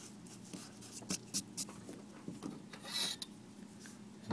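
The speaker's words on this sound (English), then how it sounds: "Just erase those two lines there." Pencil lines being erased on paper while a 2x3 Celtic knot grid is prepared for drawing: soft, close rubbing strokes come in short bursts, with a few quick scrubs and pauses between them.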